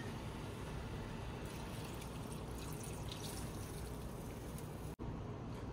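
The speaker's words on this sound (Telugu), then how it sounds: "టూ గ్లాసెస్ ఆఫ్ వాటర్ పోసుకుంటున్నాను నేనైతే" Water pours into a cooking pot for pav bhaji in a steady, quiet rush that runs unbroken for several seconds, then stops with a brief click.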